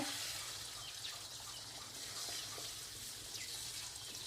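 Water runs steadily as someone bathes, a faint continuous splashing flow heard from a distance with no talk over it.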